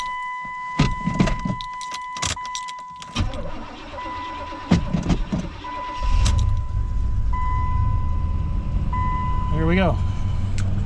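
A 1981 Chevrolet Caprice Estate Wagon that has sat for a week is started. Clicks and rattles come first over a steady warning chime, then the starter cranks and the engine catches into a rumbling idle, with some talk before it fires.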